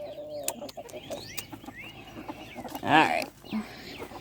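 Backyard hens cluck and chatter in short, scattered calls, with a louder burst of clucking near the end, while someone speaks briefly close by.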